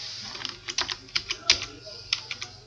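Someone types code on a computer keyboard, a quick irregular run of close, crisp key clicks against a quiet room.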